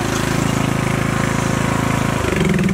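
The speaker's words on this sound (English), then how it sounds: "Is he on a lawnmower?" A lawn mower engine runs loud and close with a steady, throbbing mechanical drone that shifts pitch near the end.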